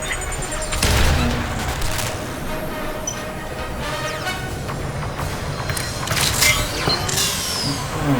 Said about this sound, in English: Missile inbound. Lots of missiles coming in.